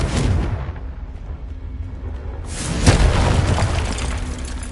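A Confringo fire spell blasts in Hogwarts Legacy, a loud booming explosion up front, a brief lull as it fades, then a second heavy burst with a rumbling tail.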